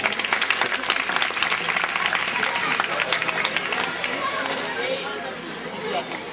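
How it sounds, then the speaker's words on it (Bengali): Audience applause at a school farewell ceremony, steady dense clapping from a crowd filling the whole stretch, with some voices mixed in and a slight easing toward the end. "করতালি হবে"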